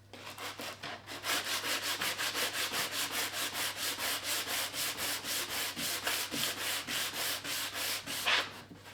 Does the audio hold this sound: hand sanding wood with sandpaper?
yes